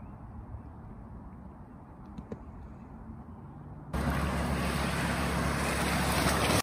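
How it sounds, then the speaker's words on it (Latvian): A fairly large boat passes on the Lielupe river, its engine and wash rising suddenly into a loud broadband rush over steady wind and water noise near the microphone. "Pabrauc viena laiva. Tāda diezgan liela, es teiktu."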